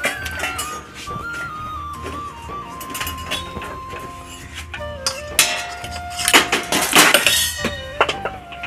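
A big spoon scrapes and clinks against a metal pot while scooping out paneer curry in a home kitchen, making repeated close metallic knocks that thicken into a busy burst of clatter near the end.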